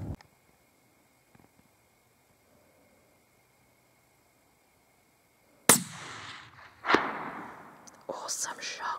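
A rifle shot cracks out during varmint shooting, a single sharp, loud report after a long stretch of near silence, followed by a few more close, bursty impacts and noises.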